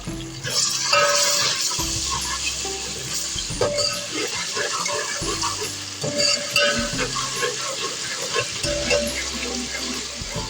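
Mutton masala with ginger garlic paste sizzles and fries steadily in a pan, the busy crackle broken by stirring scrapes and a few louder splatters. No one speaks.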